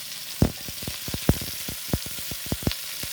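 Meat browning in a hot pan with a good char, a close crackling sizzle punctuated by sharp pops and spits at irregular intervals, with no talking.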